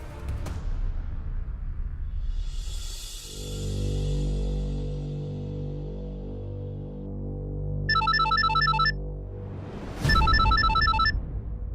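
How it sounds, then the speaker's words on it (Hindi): A phone's electronic ringtone chimes in repeated melodic bursts, loud and close, with a brief rising tone and low hum between the rings. "जय का कॉल।"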